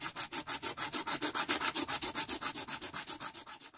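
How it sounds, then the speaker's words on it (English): A metal square nut face being roughed up by rubbing on an abrasive surface, a steady run of about two dozen quick, even back-and-forth scraping strokes, close and fairly loud with no talking. "I'm going to rough up one face of each nut."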